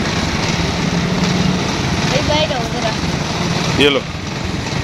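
A motorcycle engine runs steadily close by with a buzzy, high-pitched drone that holds for the whole stretch, while people talk over it.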